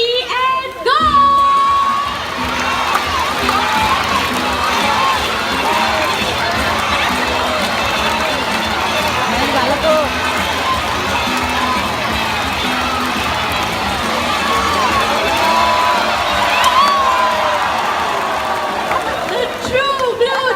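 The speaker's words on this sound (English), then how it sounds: "Zonda supporters, you have to cheer much louder this time, okay?" A large audience at a bird show at Jurong Bird Park in Singapore cheers and shouts continuously, with children's voices prominent in the loud, sustained crowd roar that lasts throughout.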